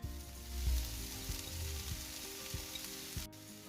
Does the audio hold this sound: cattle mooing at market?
no